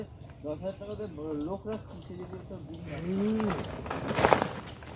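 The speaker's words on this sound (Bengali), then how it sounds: "এখানে পাখিদের কলরব আর ঝিঝি পোকার ডাক" Crickets in a mangrove forest along a narrow tidal creek keep up a steady, continuous high-pitched trill, with warbling bird-like calls and faint movement sounds over it.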